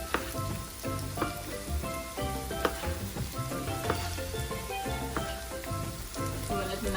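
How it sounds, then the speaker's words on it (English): Moussaka ingredients fry in oil in a pan, giving a steady crackling sizzle with scattered pops and the odd clink of a utensil, close and continuous. "Just to fry out in the oil so it releases all the goodness"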